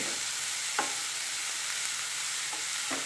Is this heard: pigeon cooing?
no